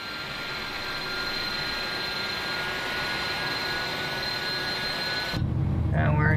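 An Airbus A300 jet engine in the X-Plane 11 flight simulator spools up, heard from outside as a steady, loud turbine roar with a high whine that holds for several seconds before cutting abruptly to a lower rumble.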